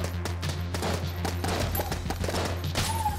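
Rapid, continuous gunfire from Enter the Gungeon, a dense stream of quick shots with steady rhythm, loud and close, laid over a looping game music bed with no talking.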